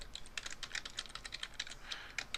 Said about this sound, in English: We'll type in the FTP address,